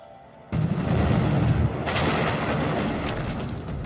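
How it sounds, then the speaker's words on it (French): A deep, powerful underwater explosion from the Kursk tragedy, about five tonnes of TNT equivalent, hits suddenly and then rumbles on as a sustained loud roar that slowly fades. "Elle indique une explosion sous-marine."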